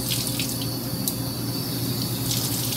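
Running water from a tap pours steadily over sprouted spelt berries being rinsed in a sink, a continuous close splashing rush with no talk.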